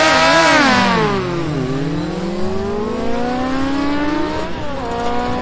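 A BMW S1000RR and a Yamaha R1 accelerate hard in a quarter-mile drag race at Trenčín, their loud, close engines screaming upward through repeated gear shifts as the revs drop and climb again.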